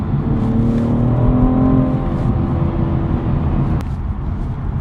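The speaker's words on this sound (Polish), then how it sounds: "Zobaczcie, mamy 70, dajemy gaz i on idzie." A BMW M440i engine revs up hard and pulls away from about 70 km/h, the rising growl climbing in pitch before dropping off sharply near the end.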